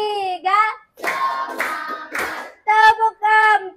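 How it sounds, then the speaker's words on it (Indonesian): Several claps in bursts of rhythmic patting, interleaved with sung or chanted voice lines, close and fairly loud. "Tepuk satu. Tepuk dua. Tepuk tiga."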